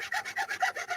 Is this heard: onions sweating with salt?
no